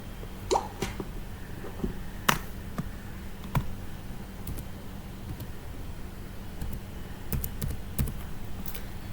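Fingers typing a one-time passcode on a computer keyboard: sparse, irregular key taps and clicks, close and fairly quiet over a low steady hum, with small bursts of several keys and a few louder strikes.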